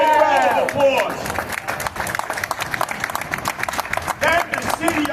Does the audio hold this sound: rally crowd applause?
yes